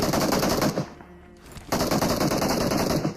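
Rapid automatic gunfire in a video game firefight, loud sustained bursts with a brief lull in the middle before the firing resumes, no voices.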